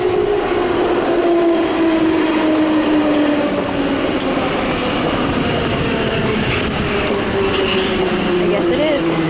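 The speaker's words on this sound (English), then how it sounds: "I hear a metro car coming" A Budapest metro train approaches at night, with a loud, steady rumble and a rising, drawn-out whine of the wheels that fills the whole stretch.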